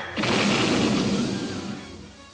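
A cartoon explosion in the animated G.I. Joe series, a single abrupt loud blast that swells into a broad roar and tapers off over about two seconds, with no talk.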